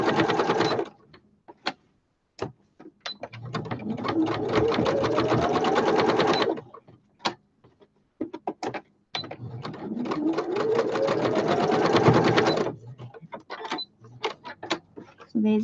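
A sewing machine stitches odd fabric scraps together in two long runs of rapid needle clatter, each several seconds, separated by short pauses with a few brief mechanical clicks; close and alone.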